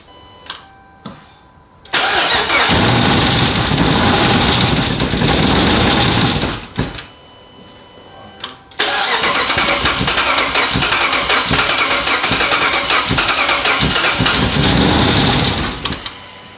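A Dodge Charger 5.7 Pursuit package V8 with a Flying Ryan Performance Hellfire 2.0 cam cranks a few times, then catches and roars loud and close, cuts out after about five seconds, restarts, and runs again with a rough, choppy idle before shutting off.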